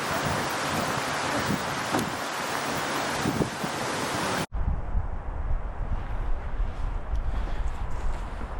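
Strong gusts roar across a lakeside campsite at Peck Lake in Algonquin Park, buffeting the microphone; the sound cuts abruptly midway, then returns as lower, rumbling wind.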